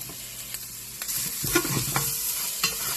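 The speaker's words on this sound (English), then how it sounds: "Give our garlic a good 10 to 15 second cooking interval ahead of everything" Garlic sizzles in a pot of oil at the start of a beef stew with molasses and apple cider vinegar, a steady close hiss of frying broken by a few stirring scrapes and clinks.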